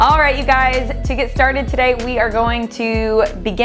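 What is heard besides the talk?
No everyday noises stand out.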